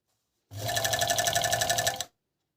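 A Gemsy RXM2000A coverstitch sewing machine runs in one continuous burst of about one and a half seconds, a loud, close, rapid mechanical buzz between quiet moments, with no talking.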